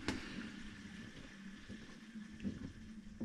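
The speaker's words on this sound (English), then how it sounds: "it's spinning a little bit to start to drain out all that soapy water" A Samsung WA50R5200AW 5.0 cu. ft. top-load washing machine spins slowly to drain soapy water, a faint steady churning swish and hum with soft periodic thumps of the drum turning, no voices.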